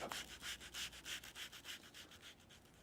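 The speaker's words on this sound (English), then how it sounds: "I also will sand about 1/4 of an inch line on the finished side of the flap" The finished side of a leather quiver flap is sanded by hand in rapid, steady back-and-forth strokes, a close, soft rasping rhythm with no voices.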